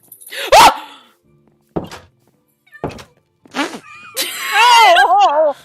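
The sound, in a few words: dog barking in Minecraft video game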